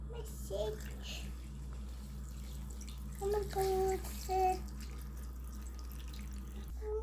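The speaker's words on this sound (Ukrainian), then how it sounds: "Заливаю водою, щоб покрило." Water poured from a tap into a pot over husked corn cobs, with soft splashing and trickling, a few brief louder bursts and faint background voices.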